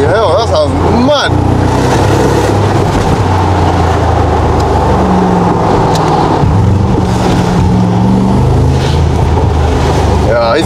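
Loud tuned Mercedes G63 AMG driving fast, heard from inside with a continuous heavy engine roar and wind rush, with gear-change pitch shifts and people talking over it.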